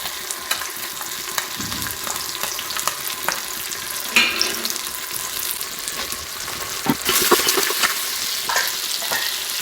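Ginger garlic paste sizzles and fries in a hot pan, a steady loud crackle with bursts of spattering and the occasional scrape of a stirring spoon.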